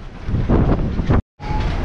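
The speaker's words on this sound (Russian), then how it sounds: "Вау, ветер." Strong gusts of wind roar across the microphone outdoors on a stormy day, loud and rumbling, broken by one brief silent gap before the blowing resumes.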